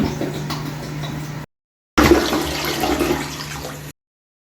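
A household toilet, just cleared of a clog, flushes in two rushing bursts of water separated by a brief cut, the second draining cleanly and fading out.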